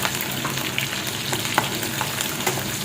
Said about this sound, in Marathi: लसूण थोडासा फ्राय झाल्यानंतर त्यामध्ये टाकते हिरवी मिरची